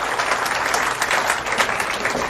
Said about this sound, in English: Give our co-host Christopher Smitherman a round of applause as well